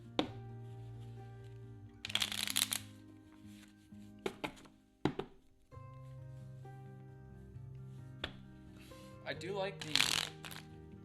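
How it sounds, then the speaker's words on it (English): Cards riffle and snap in quick bursts as a deck of Wingspan board game bird cards is shuffled several times, with soft background music playing underneath. "So shuffle up these bird cards."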